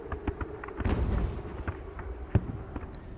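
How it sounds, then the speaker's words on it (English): Cannon fire on a battlefield in Ultimate General: Revolution, scattered booming shots at irregular intervals, one sharp louder report near the end, over a low rumbling background. "We'll let the artillery fire on."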